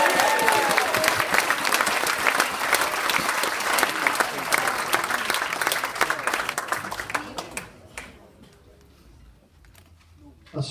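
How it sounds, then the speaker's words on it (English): An audience bursts into loud, sustained applause welcoming performer Adrian O'Loughlin to an Effingham Entertains stage show, the dense clapping holding for several seconds before tapering off to scattered claps. "put your hands together and big round of applause for Adrian O'Loughlin"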